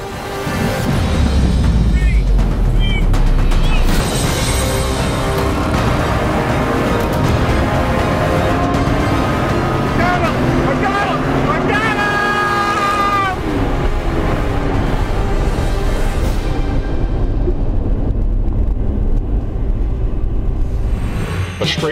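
A Dodge Charger SRT Hellcat and a base C7 Corvette Stingray roar through a straight-line run, loud engines climbing through the gears with rising, whining pitch, and voices talking over the din.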